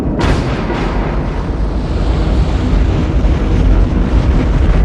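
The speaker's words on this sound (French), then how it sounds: "Commandant, il y a cavitation, il va nous entendre." Submarine propellers cavitating with the engines run full astern in a film scene, a loud, continuous churning roar of rumble and hiss that surges slightly, with no voices over it.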